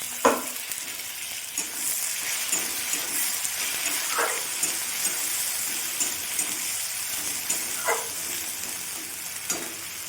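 Spice paste sizzles in a hot pan for a Bengali prawn curry with coconut: a continuous close frying hiss runs throughout, with a few brief clinks and stirring scrapes on top, and no talking.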